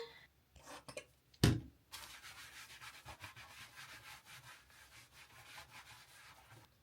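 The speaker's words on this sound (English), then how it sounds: "I just do a couple pumps and then I just rub it on my body." Self-tanner lotion being rubbed by hand onto skin, heard as soft, close, continuous brushing strokes at low volume after one sharp knock early on, with no talking.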